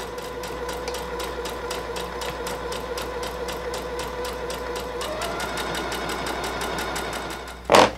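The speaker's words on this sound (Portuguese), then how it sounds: "a máquina que eu estou usando agora no meu ateliê é a Confidência da Singer" A Singer Confidência sewing machine stitches fabric in a dressmaking studio with a fast, even, close mechanical rhythm that runs steadily throughout, ending with a brief louder clunk.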